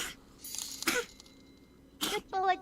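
A cat coughs or sneezes indoors: short, sharp bursts repeat irregularly over a couple of seconds, close to the microphone and fairly quiet, with a voice heard briefly alongside.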